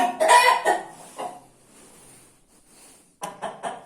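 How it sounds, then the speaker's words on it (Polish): A large rooster clucks and calls loudly up close, a few harsh squawks followed by quieter rustling, then more clucking. "Duży kogut na mięso."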